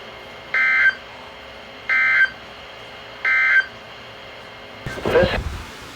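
Three evenly spaced electronic EAS alert beeps from a NOAA weather radio broadcast following a test of the public warning system, each about a third of a second long, followed by a brief burst of noisy sound.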